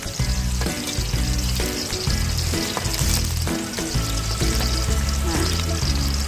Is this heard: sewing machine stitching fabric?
no